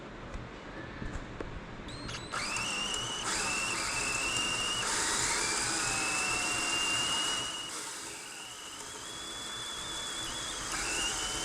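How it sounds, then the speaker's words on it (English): A small high-speed drill with a number 30 bit whines continuously, its pitch shifting up and down over a hissing background as it bores a hole. "We're going to use our number 30 drill,"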